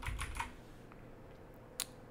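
Typing on a computer keyboard comes as a few quick, light key clicks at the start and one sharper tap near the end, close but faint over a low room hum.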